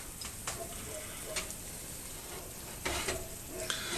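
Bannock bread dough fries in oil in a cast iron skillet, a steady faint sizzle running throughout with a few soft crackling pops and ticks on top.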